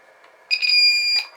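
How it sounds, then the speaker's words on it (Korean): A battery charger with polarity protection sounds a shrill, steady electronic beep alarm after being connected with reversed polarity, one loud tone lasting under a second with no talk. "이렇게 경보음이 울려서 극성을 거꾸로 연결해서 충전하는 그런 사태를 막아줍니다"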